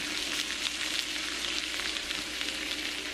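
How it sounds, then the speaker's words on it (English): Frozen bacon sizzles and fries steadily in a pan, a dense, continuous crackling hiss with small pops scattered throughout, close and alone with no voices. "So I just threw some bacon in a pan, not at all prepared for it, it's frozen solid"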